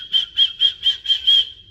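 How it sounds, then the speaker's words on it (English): Someone whistles six quick, evenly spaced triplet notes in a bright, close, rhythmic pattern. "First, try to whistle"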